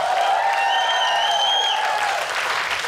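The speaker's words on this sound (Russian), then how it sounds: "Вижу, хлопаете руками" Stand-up comedy show audience applauding, a steady wash of clapping from a crowd that holds at an even level for a few seconds, with a sustained tone running beneath it.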